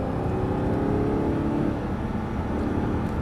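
An Audi R8 accelerating on a race track, its engine roaring in a loud, sustained drone with a rising pitch, heard close from inside the car.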